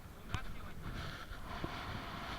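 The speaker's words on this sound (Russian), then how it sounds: "Просто ветер такой сильный." Strong wind buffets a small fishing boat out on open water, a steady roar of wind noise across the microphone with occasional thumps and knocks, while people talk nearby.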